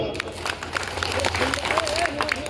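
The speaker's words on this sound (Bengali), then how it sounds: "এই জন্য একটা জোরে হাততালি।" A crowd at an outdoor public political rally at Kuchgiria crossing claps in a quick, scattered patter of many hands, moderately loud and steady, with voices and murmuring running underneath.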